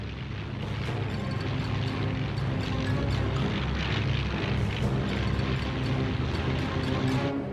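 A formation of WWII German Luftwaffe bombers flying over in a daytime raid, a loud continuous droning of piston engines with a rough, pulsing hum that holds steady throughout.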